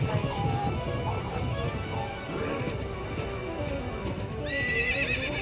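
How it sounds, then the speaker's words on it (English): A horse neighs and whinnies over rapid galloping hoofbeats in a Nintendo Zelda video game featuring Link on horseback, with game-like music and effects filling the background. "Right now what we've got is Link on a horse"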